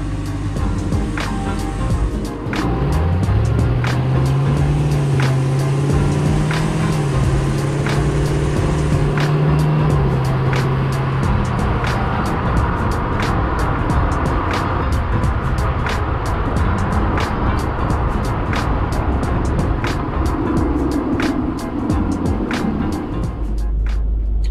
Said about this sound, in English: I took it for its inaugural drive with the external trans cooler in place